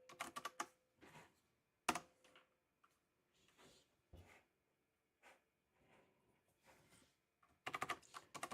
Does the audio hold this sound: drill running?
no